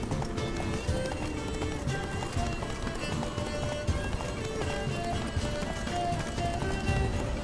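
Rhythmic hoofbeats of a galloping horse in The Witcher 3 pound steadily throughout, with a dense, busy backdrop of game music and effects.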